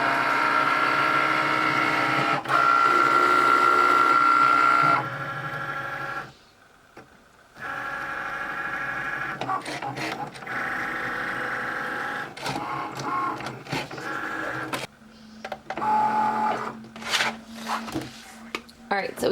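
A Cricut cutting machine cutting heat transfer vinyl on a mat, a whirring motorized carriage with a steady high tone, pausing briefly midway and then resuming with shifting mechanical buzzes and clicks.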